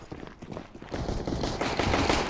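Gunfire in CS:GO on the Dust 2 map, rapid bursts of automatic shots that grow louder and denser, overlapping into a sustained rattling barrage.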